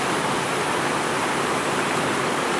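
A clean river runs close beside rocks on the Struilitsa eco trail near Devin, a loud steady rush of water that stays even all the way through with no talk.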